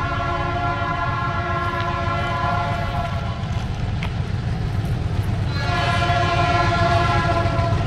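A loud MX620 locomotive horn blares in long sustained blasts over the heavy rumble of the passing train in countryside, the horn cutting out briefly and then sounding again.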